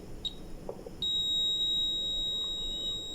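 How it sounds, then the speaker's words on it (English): A multimeter's continuity buzzer sounds while probing a MOSFET: two short high beeps, then a steady, loud piercing tone that holds for about two seconds over faint background hiss. "We get a buzzer,"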